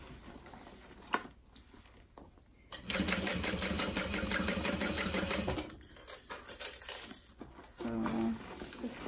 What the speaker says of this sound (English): Connector here is going to be kind of thick to sew through